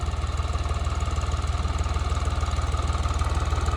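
A Santana tractor's diesel engine runs steadily while earthing up soil around potato rows in a field, a loud, close, rhythmic low thumping with a constant throb and no voices.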